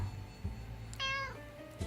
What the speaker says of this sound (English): And the cat just meowed.